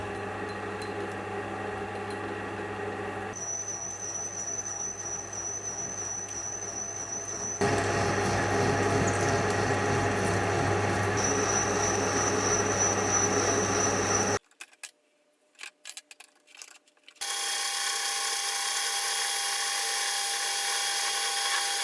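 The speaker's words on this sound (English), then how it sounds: "I'll get a new 100mm piece of aluminium chucked in and then cleaned up." A lathe machines a 100mm piece of aluminium, giving a steady metallic whine with a high squealing tone that changes pitch in stages. The sound stops briefly for a near-silent pause, then the machine starts up again.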